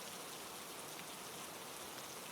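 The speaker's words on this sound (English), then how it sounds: "the rain a soft rhythm in your ears" Steady rain falls in a soft, continuous wash of fine patter, even and unbroken throughout, fairly faint and with no voices.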